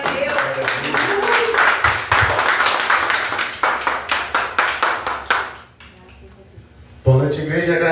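Church congregation clapping rhythmically during a worship service, steady loud claps for about five seconds with voices mixed in, then a quiet pause before a voice returns.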